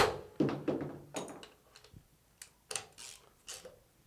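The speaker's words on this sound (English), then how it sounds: "We bang our extractor socket back down on there." A MAC RBRT extractor socket is banged down onto an old bolt, giving several sharp metallic knocks in the first second and a half, then lighter taps and clinks spaced through the rest, close and fairly loud with no talk.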